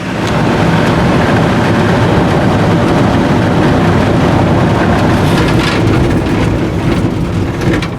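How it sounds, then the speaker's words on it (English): Heavy rainstorm with rolling thunder, a loud, dense, unbroken roar of rain and low rumble filling the whole stretch, close and steady throughout with no voices. "that rainstorm finally caught up, so I'm hanging out undercover waiting it out"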